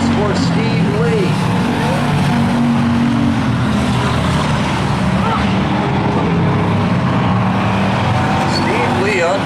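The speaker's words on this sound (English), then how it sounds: "Steve Lee unloaded a very fast race car today." Race cars roar around a speedway during a hobby-class main event, a continuous loud engine drone with passing swells, while an announcer talks over the racing.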